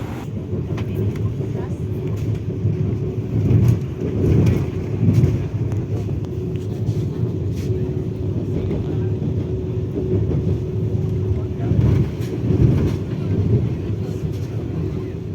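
Inside a moving Vande Bharat train at early morning, a constant low rumbling hum of the carriage with a faint steady tone and gentle swells of running noise, with no voices.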